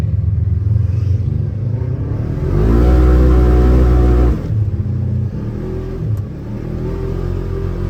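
A Can-Am X3 side-by-side engine revs loudly while riding, rising to a strong sustained rev in the middle and then falling back to a throaty rumble, close and without talk.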